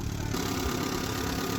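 A 1972 Ford F750 truck engine runs steadily with a dense, even rumble and no breaks, close by and alone.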